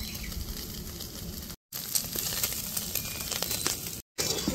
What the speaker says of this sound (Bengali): আমি যে আলুটা সিদ্ধ করে রেখেছি একটা গ্রেটার নিয়েছি, গ্রেটারের সাহায্যে আমি গ্রেট করে দিব